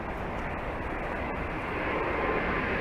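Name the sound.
American 777 airliner with Rolls-Royce engines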